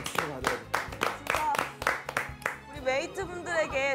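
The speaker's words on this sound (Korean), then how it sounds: "이거는 박수 받아야 돼." People clap in a series of sharp, loud hand claps in a rough rhythm, then the claps give way to excited voices and cheering near the end.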